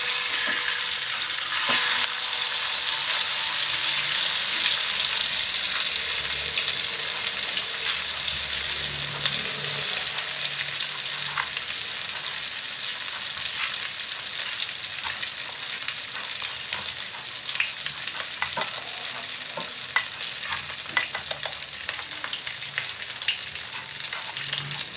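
Ground spice paste sautéing in hot oil for yellow-spiced snapper pickle (acar ikan kakap bumbu kuning): a steady, close frying sizzle with light stirring scrapes runs continuously and fairly loud, easing slightly over time, with no talking.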